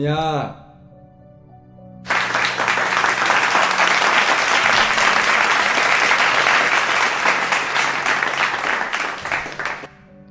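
Applause breaks out across a hall, a dense wash of many hands clapping that goes on for about eight seconds and then stops suddenly. A voice is heard just before it begins.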